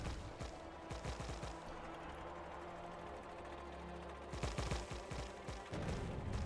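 Explosive cannon shots in Factorio fire in rapid volleys, a dense crackling barrage of booms at the start, a steadier rumbling stretch in the middle, then another burst of rapid blasts toward the end.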